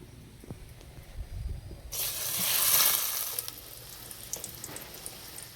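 Quiet clatter gives way to a sudden loud sizzle as an egg-batter-dipped paratha drops into hot oil in a wok, the hiss swelling and then settling into steady frying.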